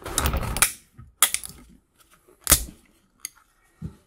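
Plastic fittings with brass inside cracked apart in a vise, several sharp, close snaps and clicks spaced irregularly between short quiet gaps.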